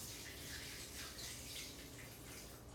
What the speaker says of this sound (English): We're gonna drain the water off.